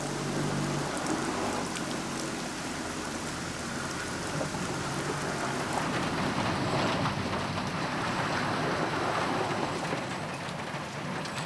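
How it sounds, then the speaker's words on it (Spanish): Heavy rainstorm pours down steadily and loudly, a dense wash of rain beating on surfaces in Nicaragua with no letup and no voices. "El convoy de dinamita ha sido expuesto a una fuerte tormenta."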